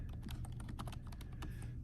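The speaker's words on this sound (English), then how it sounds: "So if you just start typing" Rapid, continuous typing on a computer keyboard, close and fairly quiet, with a fast run of clicky keystrokes and no talking.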